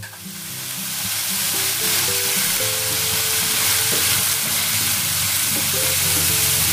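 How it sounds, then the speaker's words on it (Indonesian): Loud, steady sizzling and crackling of chicken frying in hot oil, a continuous hiss with a low hum underneath, close up. "Sekarang kita goreng ya."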